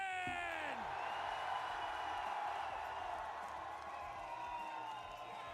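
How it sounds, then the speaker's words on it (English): An arena crowd at the Rainbow Six Siege Salt Lake Major grand final roars in a sustained, far-off wash of cheering and whooping, with a voice talking over it at the start. "The crowd is hyped."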